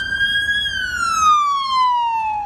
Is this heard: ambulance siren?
yes